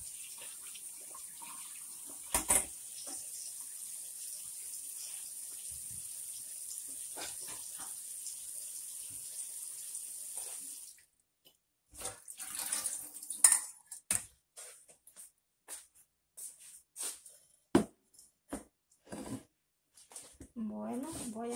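Sweet potatoes rinsed under a running kitchen tap: a steady stream of water, then clattering and rubbing in the sink as the tubers are handled, with a person talking throughout.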